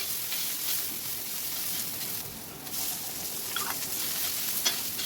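Sliced onions sizzle and crackle in hot oil in an iron karhai, with ginger and green chilies already in, a steady dense frying hiss with faint stirring scrapes near the end.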